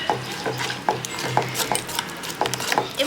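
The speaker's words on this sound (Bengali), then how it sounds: "এবার এটাকে খুব ভালো করে মিশিয়ে নিতে হবে।" A spoon scrapes and stirs a thickening homemade night-cream mixture in a pan on a gas stove, repeated scraping strokes in a loose rhythm over a soft simmering hiss, close by.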